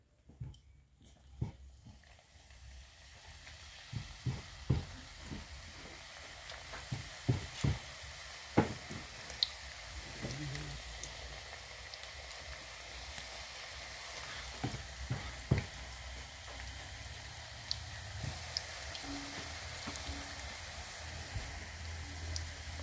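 Kordoi pitha fries in hot refined oil over a low flame, making a steady, faint sizzle broken by scattered sharp pops and crackles throughout, with no talking.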